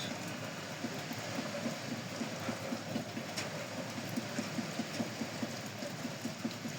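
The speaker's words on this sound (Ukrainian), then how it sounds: "Дощ іде." Steady rain falls around a small wind generator with 60 cm blades, a constant soft hiss with faint rhythmic whirring pulses from the spinning rotor, moderately distant and without speech.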